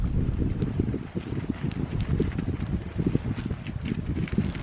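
A steady headwind buffets the microphone on a canoe trip in the Reindeer Lake area, making a loud, continuous low rumble with gusty surges and no voices throughout.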